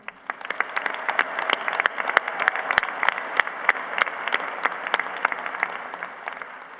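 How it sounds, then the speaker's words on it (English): A large crowd claps at a University of Idaho commencement ceremony, the applause dense and continuous for several seconds, with crisp individual claps standing out near the listener. "Let's give them all a big round of applause."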